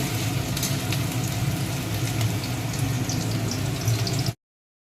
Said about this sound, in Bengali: এবার দেখো আমি পেঁয়াজটা ভেজে নিচ্ছি একটু ভালো করে